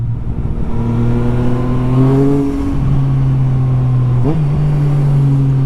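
Motorcycle engine revving hard through an aftermarket Akrapovic exhaust, a loud, close, continuous drone that climbs in pitch, dips and climbs again with a sharp blip near the end, with no talking.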